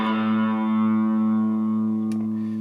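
A sustained distorted electric guitar chord from a Strat-style guitar through delay, chorus and distortion rings out with a shimmering, echoing effect, slowly fading, with a faint click near the end.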